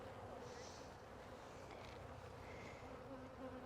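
Honeybees buzzing in a dense continuous drone around an opened hive after smoking, close and constant, with light wind noise over the microphone.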